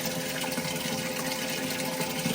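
An aeration pump circulates water in a tank aboard a rebuilt fishing boat, giving a steady, dense rush and gurgle of moving water that holds evenly throughout.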